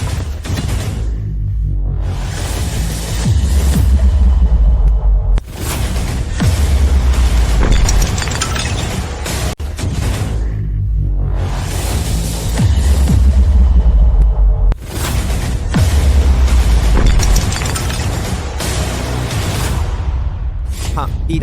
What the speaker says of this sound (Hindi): Fire cloud gun.